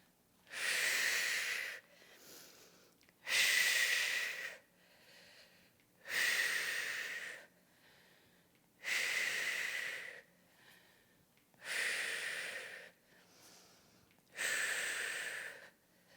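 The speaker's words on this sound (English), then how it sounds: "Inhales down, exhales to come up." Steady, audible breaths during a prenatal lower-body squat workout, long hissing inhales and exhales alternating in a slow even rhythm, close to the microphone with quiet pauses between.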